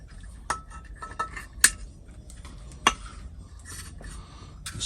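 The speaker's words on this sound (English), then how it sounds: "they're all aluminium, so I'll just chop these wires off" Cutters snipping wires off aluminium e-waste parts from household plugs and switches, a handful of sharp metallic clicks and clinks at irregular intervals, close and fairly quiet.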